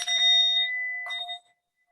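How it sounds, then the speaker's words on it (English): A small singing bowl is struck once and rings with a clear sustained tone, then is struck again about a second later, the shimmering ring fading out quickly. "Or the singing bowl"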